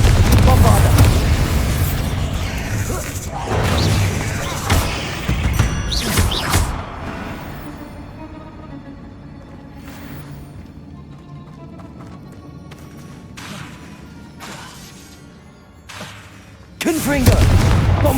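In Hogwarts Legacy, Confringo and Bombarda spells explode in loud, deep booms, with a cluster of blasts early on, sporadic bursts through the middle, and another heavy detonation near the end amid combat clatter.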